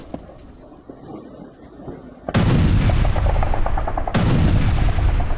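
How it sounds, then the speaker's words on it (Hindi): Russian cruise missile strike explosions in Dnipro, Ukraine: two powerful booms in succession, the first sudden and long-rumbling, the second hitting a couple of seconds later, both loud against a quiet background. "निप्रो के कई इलाकों में कैसे धमाके सुने गए"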